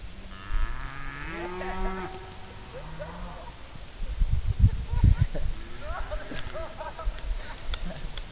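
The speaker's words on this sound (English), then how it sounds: "Herding the cattle." Cattle being herded on an Alabama farm let out several long, drawn-out moos of varying pitch, some near and some farther off, over outdoor insect buzz, trampling and people talking.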